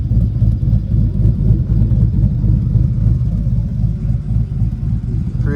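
A 2006 GMC Denali with the 6.0 engine, fitted with Corvette exhaust tips, idles and revs nearby, giving a loud, steady low rumble that swells slightly throughout.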